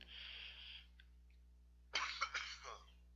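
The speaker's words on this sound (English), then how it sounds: "if you hear me cough in the background" A single close cough in a quiet room, preceded by a brief soft hiss.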